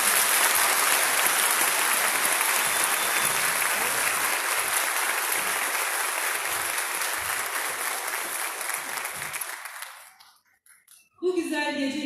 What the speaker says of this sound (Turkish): Bir kez daha alkışlarımızı rica ediyoruz